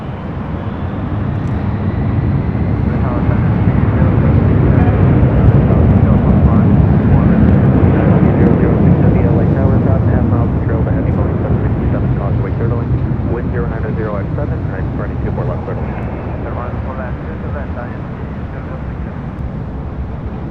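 Jet airliner flying overhead on approach to LAX, a loud broad roar swelling and then slowly fading as it passes; speech is likely underneath.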